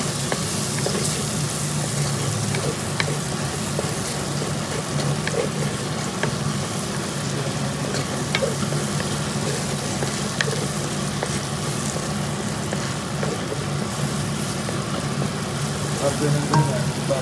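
Garlic frying in a pan, a continuous crackling sizzle with occasional stirring scrapes, steady and close throughout.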